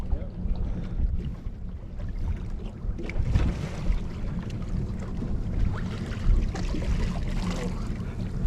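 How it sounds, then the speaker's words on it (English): A boat engine idles low and steady in neutral off Key Largo, Florida Keys, with wind and water noise around it and faint voices in the background. "So I put the boat in neutral. I should drift up to it."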